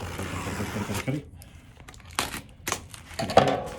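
Several short, sharp snips and crinkles of scissors cutting open a mailer, with quiet pauses between bursts, close to the microphone.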